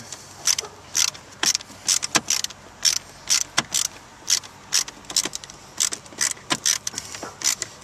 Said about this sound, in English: We're going to go over to the left side, remove this torque screw as well.